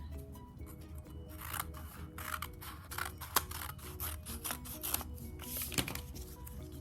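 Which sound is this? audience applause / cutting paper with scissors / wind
cutting paper with scissors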